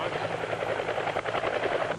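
A Canadian Forces tactical aviation attack helicopter gives off a steady, continuous rotor thrum. The fast, even chopping pulse sounds close and sustained.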